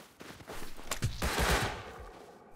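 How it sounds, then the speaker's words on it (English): Several close, rapid gunshots from a survival shooter game come in an irregular burst, mixed with softer background shots and movement noise at a moderate level. "Are you shooting?"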